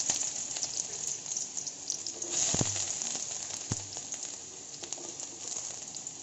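Chopped onions frying in a pan with garlic pieces for khar bhat, a steady close sizzle with brief louder bursts where the pieces hit the hot oil.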